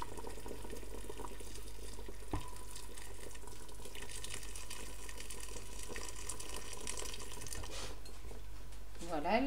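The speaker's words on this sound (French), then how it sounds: "Et je vais rajouter de l'eau bouillante." Boiling water pours steadily into a cooking pot of spiced couscous royal stock for about nine seconds, a continuous close rushing wash with faint kitchen clatter.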